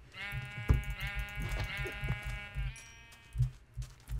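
Sheep in a survival video game bleat repeatedly, with several wavering calls overlapping across the stretch over a low steady background rumble, fairly close and clear, with no talking.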